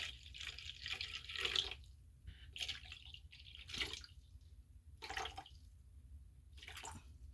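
Water is poured in bursts into a container while making homemade baby eczema soap, several splashy pours separated by quiet pauses, close and moderately loud with no talking.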